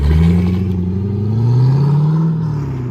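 A 2005 Chevy Corvette with a 6.0L V8 and a Carven R Series dual exhaust idles close by, a loud, deep and steady rumble with a slight lope that holds for the whole three seconds without any talking.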